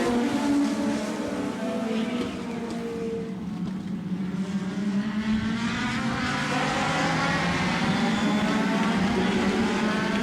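Legends race cars roaring together after a green-flag restart at Grand Bend Speedway, a loud continuous pack of engines with pitch rising and falling as they pass.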